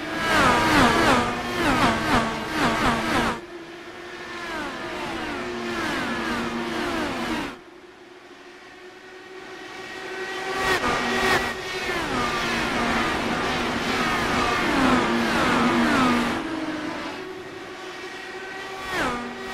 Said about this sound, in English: Let's hear the rumble of the Indy cars at Iowa Speedway.